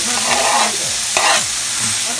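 Garlic sizzles and crackles in a hot pan for a Philly cheesesteak, a loud, close, continuous frying hiss broken by a few stirring scrapes.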